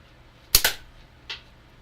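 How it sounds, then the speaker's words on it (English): Small-caliber gunshots fired at a can: a quick pair of sharp, snappy cracks close together, then a softer single pop a moment later, close and dry with no talking. "I swear I could break the record for the most shots on a can to cut it."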